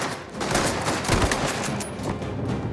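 Rapid gunfire rattles through a shootout in the video game Mafia: The Old Country, dense overlapping bursts of shots filling the whole stretch at a steady, loud level.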